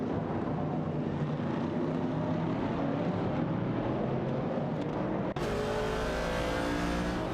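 Race car engines, a Dodge Challenger and a Ford Mustang Boss among them, roar steadily close up in a racing video game. A sudden shift in the engine drone comes late, as if the view or gear changes.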